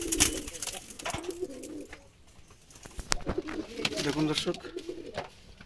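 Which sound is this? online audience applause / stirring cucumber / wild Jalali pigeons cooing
wild Jalali pigeons cooing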